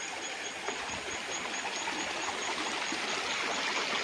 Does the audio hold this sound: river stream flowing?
yes